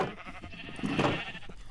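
A sheep in a video game gives a single short, wavering bleat, close and fairly loud, inside a sheep hut.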